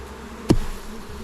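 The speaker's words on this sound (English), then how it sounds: "given the amount of bees in the top box here, I imagine this hive's pretty full" Honey bees in an open, crowded beehive, a low buzzing hum with one sudden loud close thump or buzz pass mid-way, then a steady drone continuing.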